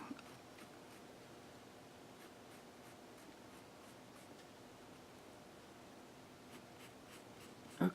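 Pencil dragged in heavier strokes across paper, a faint, close, soft scratching that repeats in quick rhythmic passes over a quiet background.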